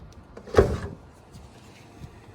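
A single short plastic pop or click as the lower fast-charging port cap is pulled off a Volkswagen ID.4 electric car, followed by quiet background.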